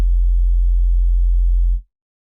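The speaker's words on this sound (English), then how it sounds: "What we're going to do is we're going to select the analog bass drum" An analog bass drum sine wave from the Serum synth plays as an 808: a single deep, loud, sustained low tone that holds steady, then cuts off abruptly into silence.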